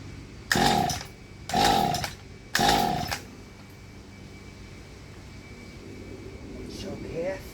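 Mantis tiller engine revving in three short, loud bursts during carburetor diaphragm repair work, each rising and cutting off within about a second, followed by quieter background sound.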